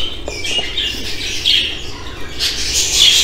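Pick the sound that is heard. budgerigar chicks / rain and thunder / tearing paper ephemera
budgerigar chicks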